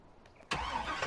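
A truck engine in Farming Simulator 19 cranks briefly, then catches and settles into a loud, steady idle close by.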